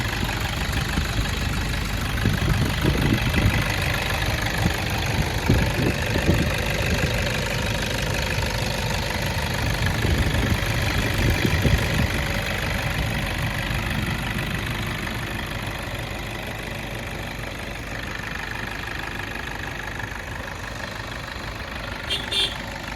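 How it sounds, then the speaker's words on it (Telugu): A 2016 Toyota Innova 2.5 G diesel engine idles steadily with a knocking, rhythmic rumble, close by; a voice talks faintly over it for part of the time. "సింగిల్ సెల్ఫ్లో అయితే స్టార్ట్ అవుతుందండి బండి"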